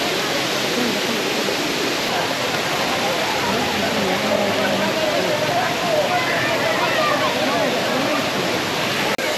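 A waterfall in Baños, Ecuador pours in a dense, continuous hiss and roar, loud and close, while a person speaks over it.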